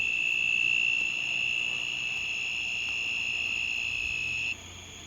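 Katydids and crickets chirp in a dense, steady high-pitched trill, one shrill tone dropping out near the end, with a faint outdoor hush beneath.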